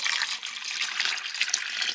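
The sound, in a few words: water filling reptile water tubs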